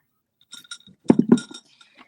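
Glasses of water clinking together in a toast: a couple of faint taps, then a cluster of bright, close glass chinks, trailing off into light ringing, with no voices.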